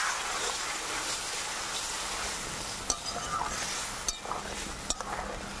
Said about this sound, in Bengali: এই আলুর সাথে সব মশলা ভালো করে কষিয়ে নেবো